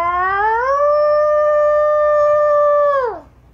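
A person imitates a wolf howl with one sustained, close, loud voiced note that rises at the start, holds steady for about three seconds, then drops off at the end.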